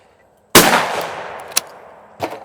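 A shotgun is fired at a clay target on a shooting range, one sharp loud report with a rolling decaying tail, followed by a brief click and then a fainter second bang or echo near the end.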